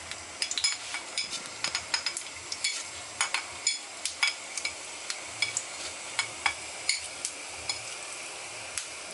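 White cumin seeds sizzling in three spoons of hot oil for a stuffed aubergine sauce, a steady close hiss with repeated stirring scrapes and light clinks of a spoon against the pan.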